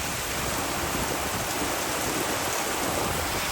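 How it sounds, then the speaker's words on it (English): Heavy rain pours steadily on a sunny-turned-stormy day in Cartagena, a dense, continuous hiss with no let-up and no voices. "That's a lot of rain."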